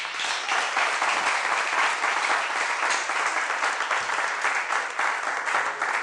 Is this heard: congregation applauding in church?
yes